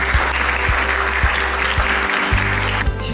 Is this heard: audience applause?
yes